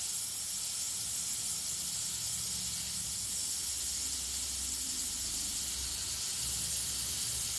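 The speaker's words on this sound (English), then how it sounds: "I use Createx paint and the Iwata Eclipse airbrush guns" An Iwata Eclipse airbrush sprays Createx paint in a continuous, even hiss that runs unbroken from start to finish, close and steady with a low background rumble beneath.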